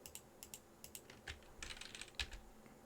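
Computer keyboard keys tapped for shortcuts during UV mapping work, a quiet series of sharp clicks in uneven clusters, several rapid presses near the end, with no talking.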